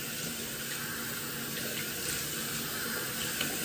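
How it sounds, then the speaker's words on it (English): Cold water splashing as a face is washed, with a steady running-water wash under light splashing throughout, close and fairly loud, no voices. "So of course I take cold water and I wash my face."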